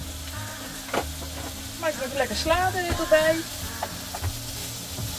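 Vegetable rondos fry in a pan while camping at a motorhome park, with a steady sizzle and occasional stirring clatter underneath a person talking.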